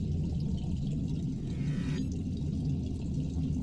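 A low, steady rushing rumble of water draining away in the game I'm on Observation Duty 7, with a faint hollow whooshing swell near the middle; continuous and muffled, no voices.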